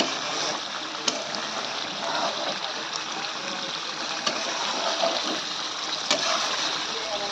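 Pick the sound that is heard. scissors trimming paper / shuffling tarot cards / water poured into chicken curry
water poured into chicken curry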